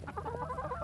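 Chickens, with a rooster among them, give a brief, soft run of clucks inside a coop in a Michigan winter, heard faintly over a low background rumble.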